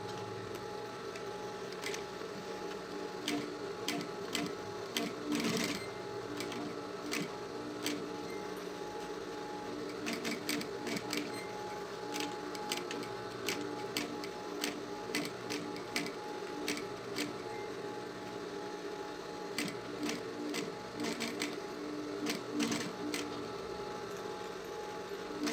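A sewing machine runs steadily while stitching a synthetic-fabric school pencil case with a single opening, its needle making a continuous mechanical whir broken by rapid ticking bursts, close and moderately loud throughout.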